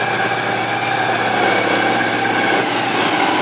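A 2005 Yamaha V-Star 1100 Silverado motorcycle with side pipes idles nearby off the choke, a loud, steady low rumble that throbs evenly throughout with no voices.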